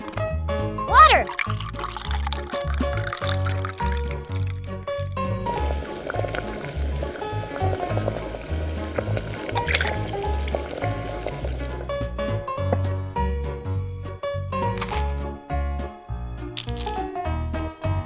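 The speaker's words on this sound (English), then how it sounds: "Water!" Water poured while cooking mini skewers, a liquid splash and fill with some bubbling, set against steady rhythmic music throughout.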